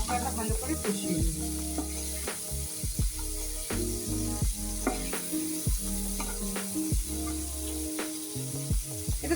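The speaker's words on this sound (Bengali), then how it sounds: "দিয়ে আমি মশলাটা ভালো করে কষিয়ে নিই।" Ground coriander, cumin and chili spices fry in a pan while being stirred, a steady close sizzle with intermittent scraping, alongside faint background music.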